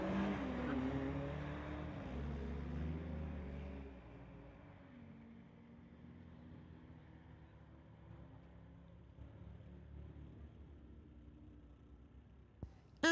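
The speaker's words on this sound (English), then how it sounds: "Anthony in the tower side, 2008 VW going against Eric Geller, racing a 92 VW." Drag race between a 2008 VW and a 1992 VW at Mission Raceway: loud engine revving and roar at the start, dropping quickly into a fainter, receding drone as the cars speed away, with a sharp click at the very end.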